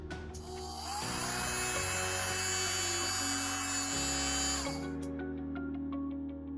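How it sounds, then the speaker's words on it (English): The motor of a 3D-printed Dremel-style rotary tool spins up and runs for about four seconds as a steady, close, high-pitched whine with a buzzy hum, then cuts off and leaves a faint ringing decay. "attach the power supply and check the motor again"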